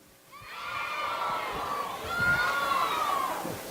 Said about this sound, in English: if you just take your arms and do something, just people start cheering